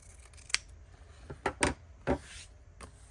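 Scissors snip paper while trimming a gift card holder craft: a few short, crisp cuts spaced irregularly, close and fairly quiet against a soft background, with no talking.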